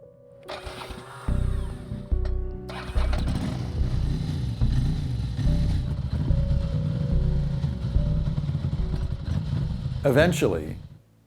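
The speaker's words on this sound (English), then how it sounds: "Eventually, the Ducati was coaxed to life" A Ducati motorcycle engine starts on a cold morning, catching after a brief sputter and settling into a loud, uneven running rumble, with a sharp rev climbing near the end.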